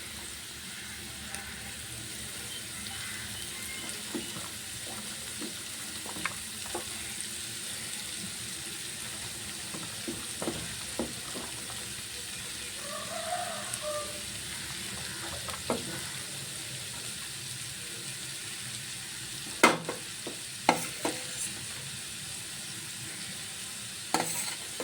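Green chilli, carrot and cabbage stir-frying in a pan for prawn fried rice, a quiet sizzle under scattered scraping and stirring clatters that sharpen near the end.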